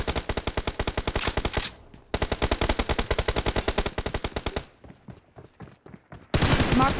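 Rapid automatic rifle fire from AKM and Groza guns in the mobile game BGMI, long dense bursts of evenly spaced shots with short gaps between, steady and prominent with no talk.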